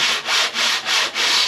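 Five rhythmic back-and-forth strokes of 80 grit sandpaper rubbing across a timber board, each pass a bright, close, raspy scrape with brief pauses between, no voices.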